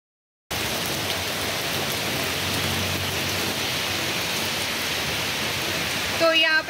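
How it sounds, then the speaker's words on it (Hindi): Heavy rain pours down as a dense, steady hiss that starts abruptly after a moment of silence and holds loud and unbroken throughout. A brief clatter sounds near the end. "चालू हो चुकी है जबरदस्त जोरदार बारिश, पानी नहीं मतलब इतना पानी गिर रहा है अभी।"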